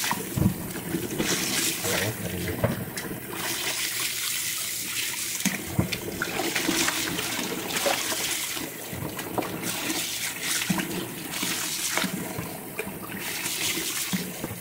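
Water runs steadily from a tap with splashing and sloshing as goat feet are rinsed underneath it, continuous and close throughout.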